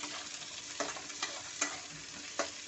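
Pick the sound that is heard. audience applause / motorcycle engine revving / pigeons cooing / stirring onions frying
stirring onions frying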